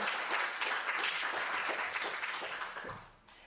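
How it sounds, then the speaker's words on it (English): A conference audience at a women-in-AI launch event applauds in a steady, moderately loud burst that tapers off near the end. "please, a big round of applause for our partners, Fadi, Paola, Alison, Josie"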